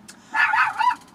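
A dog named Lily Joy standing guard in front of a bus lets out a short burst of sharp barks, close and fairly loud, with a brief yelp first and quiet around it.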